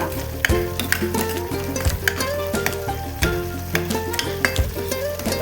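Red chickpea curry sizzles as it is sautéed in oil in a pan, with repeated scraping and stirring knocks over a continuous frying hiss.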